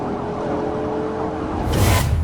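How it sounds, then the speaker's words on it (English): A police siren wails steadily over traffic noise, swelling louder toward the end as the vehicle draws near. "activated his siren, and began pursuing Smith"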